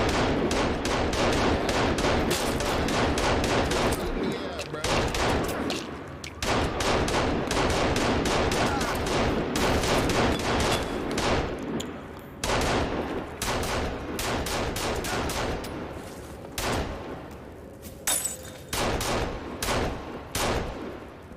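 Gunfire in the video game Sons of the Forest, dense rapid bursts of shots, loud and near, continuing almost without pause for about twenty seconds, with no talking.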